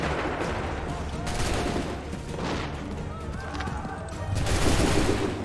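Musket volleys crack out again and again in the video game Assassin's Creed 3, a dense, loud barrage of overlapping shots and booms with shouted orders heard underneath.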